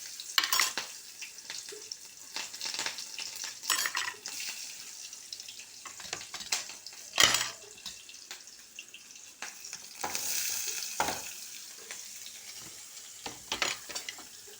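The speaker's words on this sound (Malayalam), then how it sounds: "കടുകിട്ടു. അതിലേക്ക് പച്ചമുളകാണ് ഇടുന്നത്." Mustard seeds, green chillies and onion frying in a pan, with a steady crackling sizzle, intermittent stirring scrapes and brief splashes of running water, no voices.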